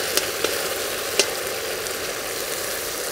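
Mutton fry sizzling steadily in a pan while a ladle stirs through the meat, a continuous close hiss broken by a few soft scraping knocks, with no talk.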